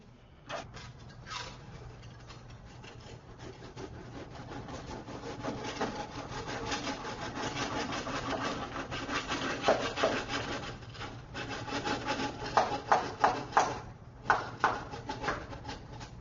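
A FincelCut 100 portable cutting station's knife slicing through wood fiber insulation batts, a dry rasping, sawing rub that builds over time into rhythmic strokes with sharper bursts near the end, close and unaccompanied by speech.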